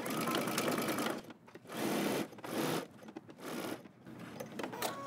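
Sewing machine stitching a jumpsuit seam with 5/8-inch allowance, several short bursts of rapid mechanical whirring separated by brief pauses, close and moderately quiet.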